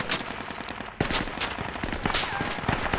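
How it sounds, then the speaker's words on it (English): Dense gunfire in the Project Reality video game while defending a radio relay: continuous overlapping rifle and machine-gun bursts at moderate level, with sharp individual cracks standing out through the steady barrage. "Okay, but they're shooting at us."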